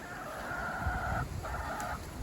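Rooster and chickens on a garden farm, with two long held crowing-like calls and scattered clucks over a steady outdoor background, moderately near.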